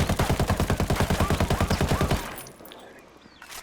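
Rapid automatic gunfire in the video game Ghost Recon Wildlands, a rifle firing a sustained burst of about twenty evenly spaced loud shots over two seconds, then stopping with a fading tail and faint ambient noise.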